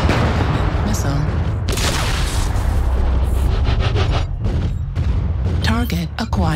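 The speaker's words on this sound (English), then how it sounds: "Missile." Continuous booming roar and rumbling blasts of a missile explosion in a video game, dense and loud throughout, with a voice talking over it.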